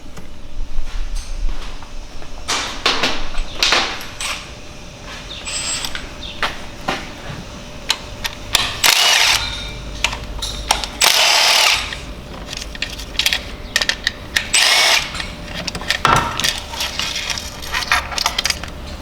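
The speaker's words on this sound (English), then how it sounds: "Okay, so now I'm going to undo the both bolts." Bolts come off a BMW N55 engine with sharp metallic clicks and scrapes of hand tools, plus short ratcheting bursts and clinks of metal parts, close and uneven over a quiet workshop background.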